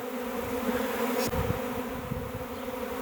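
A swarm of honey bees pours out of a hive, a dense, steady buzzing drone that stays close and loud throughout with no voices.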